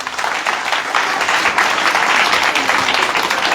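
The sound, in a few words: audience clapping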